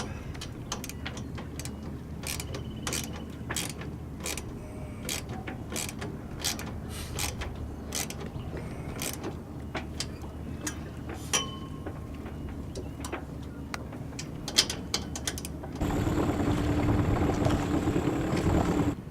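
A sailboat winch ratchets while a line is tightened, a run of quick, fairly faint clicks and creaks at close range that ends in a steadier mechanical whir.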